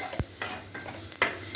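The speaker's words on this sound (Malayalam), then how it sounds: "ഇളക്കി കൊടുക്കും" A spoon scrapes and stirs spice powders in a pan over low heat, a few soft rhythmic strokes with a faint sizzle underneath, no voices.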